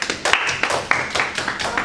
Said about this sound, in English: Give applause to Pamba.